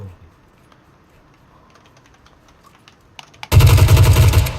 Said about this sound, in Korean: 왼쪽에서 쏘는 것 같은데